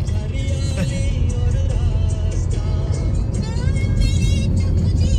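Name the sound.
car driving on Mumbai coastal road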